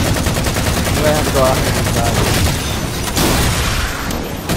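A mounted turret in a Halo match fires a rapid, continuous stream of loud shots, and a voice speaks over the dense barrage.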